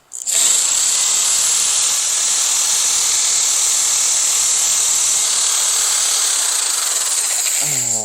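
A power drill whirs continuously with a high, hissing whine, starting abruptly and holding steady before a brief wobble near the end.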